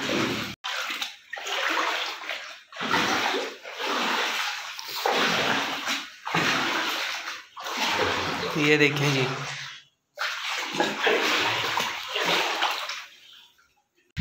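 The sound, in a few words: floodwater in a street after heavy rain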